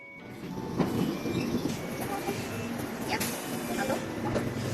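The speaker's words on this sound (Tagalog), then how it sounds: "At ito nga dumating na ang tren" A train rolls into a station with a steady low rumble and scattered metallic clanks and squeals, and voices murmur faintly beneath the noise.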